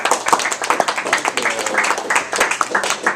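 Audience at a university policy debate claps steadily for the speakers, a dense, fairly loud patter of many hands lasting a few seconds.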